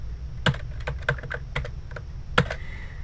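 Keys clatter on a computer keyboard in quick irregular bursts, a dozen or so crisp clicks, close and clear with no voices.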